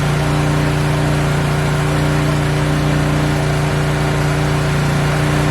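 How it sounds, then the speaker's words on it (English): Pressure washer motor left running idle beside an engine bay, a loud, steady, unbroken hum with a strong tonal drone, close and with no talk over it. "I know I'm not supposed to keep the pressure washer running this long without using it."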